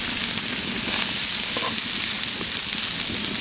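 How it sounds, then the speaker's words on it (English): Onions and celery frying in melted butter in a pan over a fire bowl, a loud, dense, continuous close sizzle with a steady hiss. "Into the butter, you want to add in your onions and your celery."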